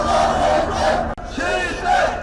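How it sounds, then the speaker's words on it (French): Pro-Erdogan crowd at the trial of 47 soldiers accused in Turkey's failed coup boos and shouts angrily. Loud, dense massed voices roar continuously with a brief break midway. "Ils sont hués par la foule."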